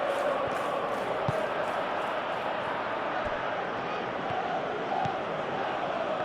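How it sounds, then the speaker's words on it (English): Stadium crowd noise from a Chelsea vs Arsenal football video game match, a steady dense roar of chanting fans held at even loudness throughout, with a few faint thuds underneath. "The crowd are calling for this to be put to bed."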